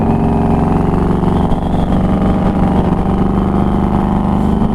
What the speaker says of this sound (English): I don't know how well this motorcycle translates on the microphone